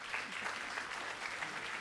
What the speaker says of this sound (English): So loud applause